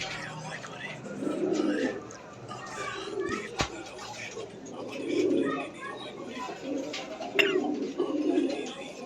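Fancy pigeons, including Danish breeds, cooing in soft repeated rounded bursts at moderate distance, with someone talking over them and faint children's voices in the background.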